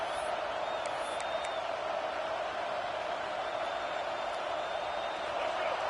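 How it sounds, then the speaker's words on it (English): Home crowd in a football video game roars steadily as the defense tries to get off the field on third down, a dense, constant wall of distant cheering with faint whistles throughout. "Here comes this home crowd as the defense tries to get off the field on 3rd down"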